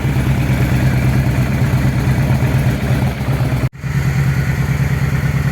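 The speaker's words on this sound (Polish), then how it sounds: "Motocykl pracuje" A Honda Shadow VT600 motorcycle engine idles loudly and close by after service, a steady, pulsing low rumble, briefly cut by a sharp dropout near the end before the idle resumes.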